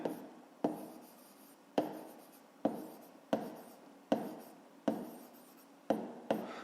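A pen writes numbers by hand in a school notebook, about ten short scratchy strokes each starting sharply and trailing off, close and quiet with no talking.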